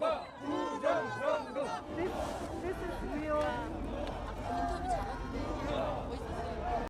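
A large, animated crowd of protesters in South Korea shouts and chants together, loud overlapping voices rising and falling in rhythmic bursts throughout.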